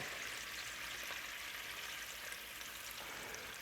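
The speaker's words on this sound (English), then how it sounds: "A ladle of this pasta water. And you hear that sizzle?" Pasta water ladled into a hot pan with olive oil and garlic, giving a steady, even sizzle and hiss that holds without pause throughout.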